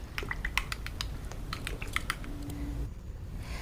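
A spoon stirs an egg and coconut milk mixture in a bowl, producing quick, close clinking and tapping strokes in an irregular rhythm, then a brief pause near the end.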